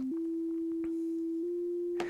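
A steady pure sine tone from an Arturia MicroFreak synthesizer oscillator, quiet and smooth, stepping up slightly in pitch twice and holding, with a brief soft noise burst at the end.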